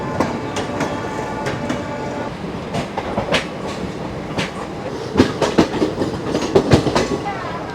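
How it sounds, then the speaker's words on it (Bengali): Jammu Tawi express train rolling into an Indian railway station, wheels clicking over rail joints in an irregular clatter that grows louder and denser toward the end, with faint background hum. "জম্মু তাওয়াই ঢুকছে।"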